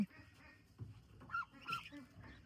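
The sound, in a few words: ducks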